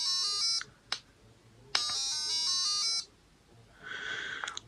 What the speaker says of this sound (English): that little buzzer is loud